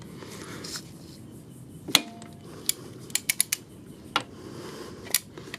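Metal clicks and clanks from a torque wrench working loose the oil drain bolt on a Kawasaki Ninja 250R, several sharp close ticks and a ratcheting cluster over a quiet background hiss.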